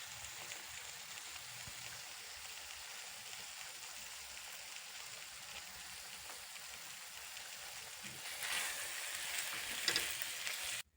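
Khoya and grated carrot for gajar halwa fry in a pan, giving a steady, close sizzle that runs throughout and grows louder and brighter near the end, with no voices.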